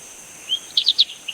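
A Cuban tody gives a short run of high, thin chirping notes, about five quick calls clustered together, clear and close against a quiet background.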